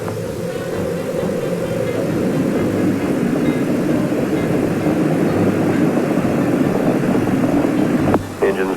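Space Shuttle Challenger lifting off, a loud, steady roar of rocket engines rumbling continuously and close, dipping briefly near the end.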